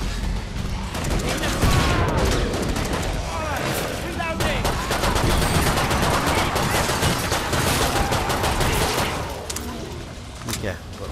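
Sustained rapid gunfire from a Commando in the PS4 beta of Killing Floor 2, dense bursts of automatic shots running nearly the whole time with explosions mixed in, loud and close, as players talk over it.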